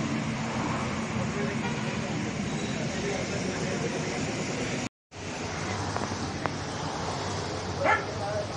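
A police dog squad's dog gives a few short barks at the site of a night-time ATM theft in Mudkhed taluka, heard briefly amid steady outdoor traffic noise and a busy crowd.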